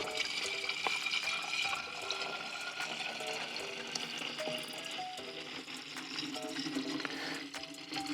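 Degreaser liquid is poured into a pump sprayer to clean a car body, a trickling, gurgling pour with small splashes that flows on steadily for several seconds at close range.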